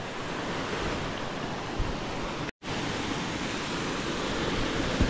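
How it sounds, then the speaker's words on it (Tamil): A hidden waterfall at a camping spot, its water roaring down in a constant, broadband rush, loud and close, with a momentary cut-out partway through. "இந்த நீர்வீழ்ச்சியை பாருங்க, இதாலையெல்லாம் தண்ணி தான் போகுது."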